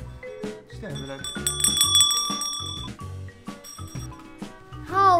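Bright metallic bell chimes ring out several times, sustained and close, mixed with steady conversation between people around them.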